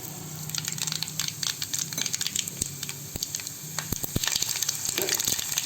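Mustard seeds frying in hot oil for idli upma, a steady close sizzle with rapid popping and crackling spits, loud and continuous, no voices.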